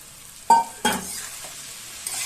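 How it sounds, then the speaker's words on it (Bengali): Washed puffed rice with a little sugar hits a hot pan and gets stirred: two sharp scraping strokes followed by a soft, fading sizzle, close by with no voices. "এবার আমি ধুয়ে রাখা মুড়িগুলো দিয়ে দেবো"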